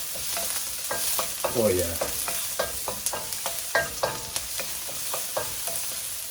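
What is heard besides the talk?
chopped garlic frying in a pan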